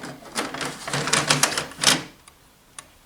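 A toner cartridge is pushed into a Samsung M2675F laser printer, giving a quick run of rattling plastic clicks and taps that ends in a firm snap, then a single faint tick after a pause.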